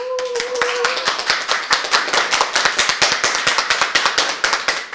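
Rhythmic clapping greets a woman named Kateryna at a volunteer centre, a small group's steady, close claps forming a regular beat for several seconds after a brief tone at the start.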